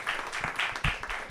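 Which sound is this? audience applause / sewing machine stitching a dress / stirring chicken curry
audience applause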